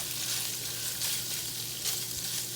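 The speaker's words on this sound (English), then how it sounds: "I've let my brats cook and brown, and I've also broken them up a little bit with my spatula" Bratwurst pieces browning in a pan give a dense, continuous close sizzle and crackle throughout, without talking.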